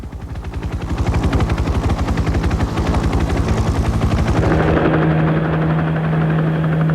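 A Soviet Mi-1 helicopter's rotor gives off a loud, rapid, rhythmic thumping with a droning engine under it. The beat blurs into a steadier roar and hum as the craft changes pitch.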